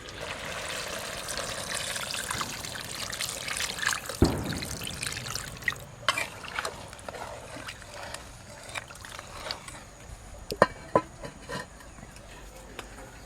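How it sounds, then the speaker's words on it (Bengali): Water pours into a pot of browned country chicken curry cooking the village way, giving a steady close trickle and splash with scattered clinks from the pot, continuing without speech. "এবার পরিমাণ মতো জল দিয়ে দেবো।"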